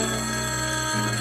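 An old home telephone's mechanical bell rings loudly, a dense, continuous metallic clatter lasting the full second with a slight shift near the end.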